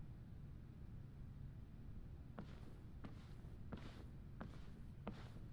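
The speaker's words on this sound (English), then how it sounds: "They even have the footstep sounds on the stage?" Footsteps on a stage in Genshin Impact's Fontaine storyline, about five soft, evenly spaced taps that start midway through, faint over a steady low background hum.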